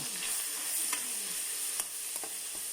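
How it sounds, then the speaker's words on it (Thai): Minced pork stir-frying with pounded chilies, garlic and shallots in a hot pan gives a steady close sizzle with a few sharp scraping stirs of the spatula. "หมูสับ ใส่ ผัดกับ"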